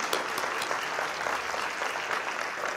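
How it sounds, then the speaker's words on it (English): Steady, dense applause from an audience at a city State of the City and employee recognition ceremony, a continuous wash of clapping with no voices on top. "So let's give them another round of applause."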